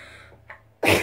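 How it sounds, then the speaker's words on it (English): A single sharp sneeze bursts out after a quick breathy intake, loud and close. "Hang on, I'm gonna sneeze."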